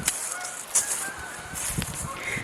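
Geese honk nearby outdoors, several loud calls in quick succession over light background noise, with no talking.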